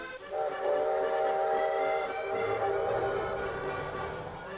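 Long steady steam train whistle blowing with a hissing edge, loud and sustained for several seconds as the locomotive comes back, with a low rumble underneath and no talking.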